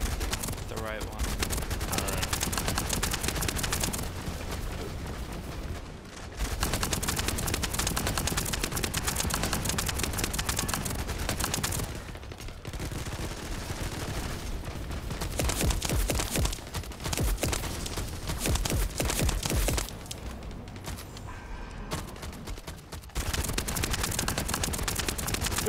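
Relentless rapid gunfire from a boss fight in the video game The First Descendant, dense loud bursts almost without pause and only brief dips, with voices talking underneath.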